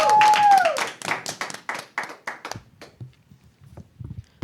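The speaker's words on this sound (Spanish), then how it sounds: "vamos a dar un fuerte aplauso" A small group claps for a Christian talk show, a brief burst of hand claps and applause at first, with faint talk over it, then thinning into scattered individual claps.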